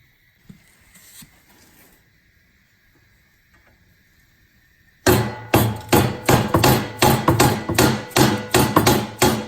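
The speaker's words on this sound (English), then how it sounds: "Next, we'll use a punch and a hammer to drive that out." Hammer striking a punch to drive the impeller shear pin out of a Cub Cadet snow blower. After a few seconds of near silence come a dozen loud, close, rapid metallic blows in a steady rhythm.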